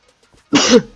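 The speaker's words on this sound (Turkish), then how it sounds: "Hastayım öksürebilirim." A single sharp cough from a person who is ill, close and loud, following a few faint soft sounds in an otherwise quiet moment during a Minecraft Survival Games session.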